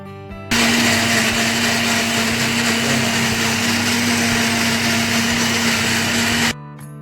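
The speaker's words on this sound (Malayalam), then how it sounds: "ലിഡ് ഒന്ന് ക്ലോസ് ചെയ്തിട്ട് ജസ്റ്റ് ഒന്ന് മിക്സ് ചെയ്തെടുത്താൽ മതി" A mixer grinder with its lid closed blends a breakfast drink, starting abruptly into a loud, steady whirring motor whine that holds for about six seconds before stopping sharply.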